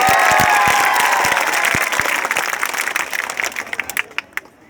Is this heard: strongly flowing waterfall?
no